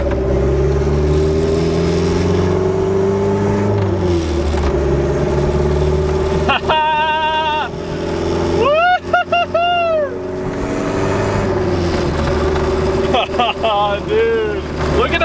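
A turbocharged Honda Civic accelerates on the road, its engine drone rising in pitch between gear changes, loud and close inside the car, with excited voices shouting over it.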